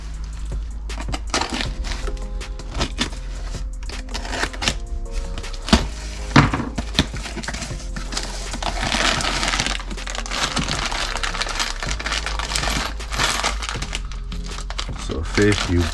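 Cardboard box holding Ford Mustang headers crinkles, crunches and creaks as it is handled and opened, with sharp cracks and rustling throughout and someone talking over it.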